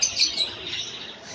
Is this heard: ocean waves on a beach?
no